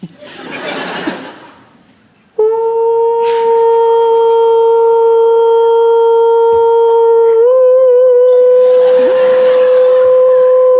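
A man on a comedy panel show imitates a wolf howl, a long sustained loud tonal cry with a wavering pitch rise near the end, bracketed by audience laughter before and after.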